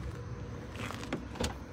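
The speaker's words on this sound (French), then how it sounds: "Ou le bruit des voitures?" Passing cars make a low, steady traffic rumble at a distance, faint and brief, with a slight swell near the end and no talking.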